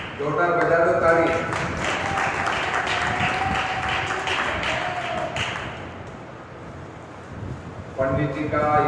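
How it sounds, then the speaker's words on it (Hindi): Audience claps loudly and steadily at a Bhagavat Katha religious gathering, a dense burst of applause that fades, with someone speaking before and after. "जोरदार बजा दो ताली।"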